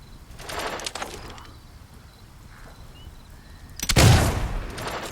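Gunshots from a shooting round in the video game Fable II, a quick volley early on, a quiet stretch, then a louder burst of shots near the end, moderately distant.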